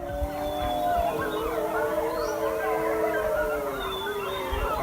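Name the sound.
animals barking and howling on a mountain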